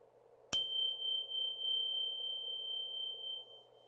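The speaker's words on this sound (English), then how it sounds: "just listening for that beginning, middle, and end sound of the bell" A mindfulness bell is struck once and its clear, pure tone rings on steadily and slowly fades, alone in a quiet room.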